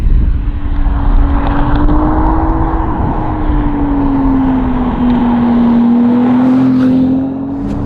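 A Ferrari 296 with a 2.9 litre V6 twin turbo hybrid engine drones loudly and steadily from inside the cabin, the engine note holding a sustained tone that dips and rises slightly as the car drives along.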